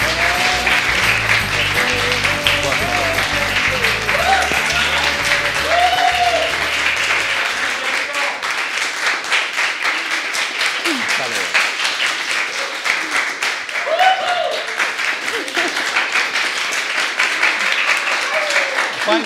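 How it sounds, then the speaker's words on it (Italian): A studio audience at a social club on Via Novelli applauds for guest Francesca Baroni, with dense, sustained clapping that runs the full length while voices and music sound faintly underneath. "applauso per Francesca"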